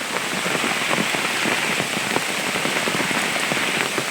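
Steady rain pattering on surfaces outdoors in the Konkan countryside, a dense, even hiss of drops close by with scattered sharper taps throughout.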